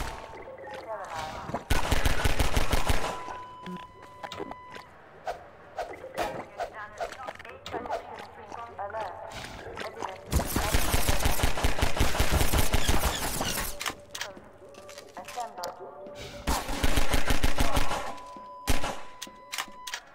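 Gunfire in Half-Life 2, several long bursts of rapid automatic shots in loud clusters separated by quieter gaps, with someone talking between and over the bursts.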